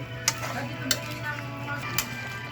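Spinach and other vegetables being stirred in a cooking pan, with soft scraping and sizzling under a steady hum and three sharp utensil clinks against the pan.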